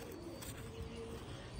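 White pigeons at a pigeon fancier's loft coo softly and continuously, a faint, low, steady murmur with a light background hiss and no voices.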